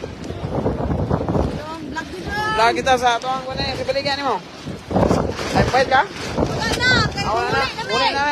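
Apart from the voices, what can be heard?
strong wind on the coast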